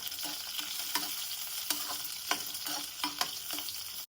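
Ginger and dried red chilies fry in a pan for a hotel-style ginger chutney, a dense continuous sizzle close up, broken by regular scraping stirs, with no talking.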